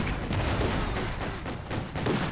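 A ZiS anti-tank gun firing in Company of Heroes 2 amid a dense battle, with several heavy booming shots and explosions over continuous low rumbling combat noise.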